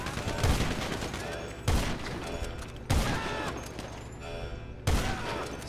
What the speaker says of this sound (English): Stay down when I fucking shoot you with a sniper.